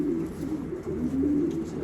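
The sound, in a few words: racing pigeon hen cooing while held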